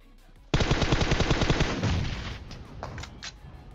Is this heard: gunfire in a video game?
yes